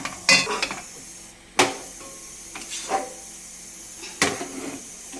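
A spoon scrapes and knocks against a pot while flour paste for paratha dough is stirred and cooked, a few sharp clinks and soft scraping strokes at close range, spaced out over a quiet background.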